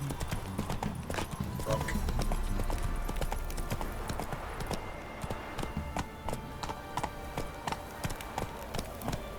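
Geralt's horse Roach gallops in The Witcher 3: Wild Hunt, a rapid, steady clip-clop of hooves close by throughout, with one brief spoken word over it.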